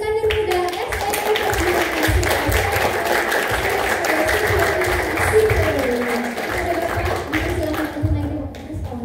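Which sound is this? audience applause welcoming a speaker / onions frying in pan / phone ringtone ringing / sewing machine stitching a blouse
audience applause welcoming a speaker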